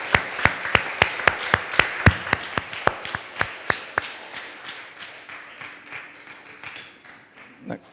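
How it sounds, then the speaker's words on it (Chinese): A church congregation at a Taiwanese-language Sunday service claps in brisk, regular unison beats for about four seconds, then the clapping loosens into scattered, fading applause and room murmur. "搁再一届用热烈的掌声来感谢咱的主。"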